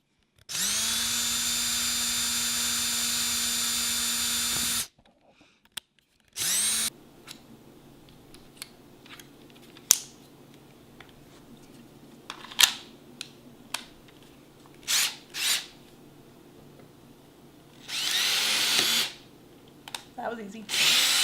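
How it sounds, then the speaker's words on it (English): A power drill boring holes to mount a custom APR splitter on a Ford Mustang, a loud whining run of several seconds followed by short bursts and stops, with clicks and handling noise between them. "now we start drilling."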